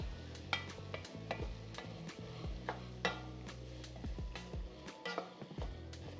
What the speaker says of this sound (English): Just give that a little mix.